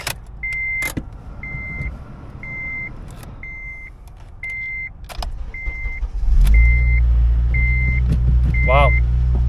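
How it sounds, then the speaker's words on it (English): A donor car bought at auction cranks and catches, its engine settling into a loud steady idle with a repeating chime beeping throughout. "See if this thing will actually start."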